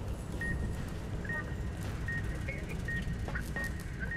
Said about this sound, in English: Okay, the beeping is getting louder.